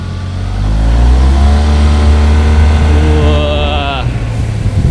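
A heavy big-cc automatic scooter, an Xmax or Tmax, accelerates hard with a loud, close engine note rising steadily in pitch, then easing off after about four seconds, with faint talk mixed in.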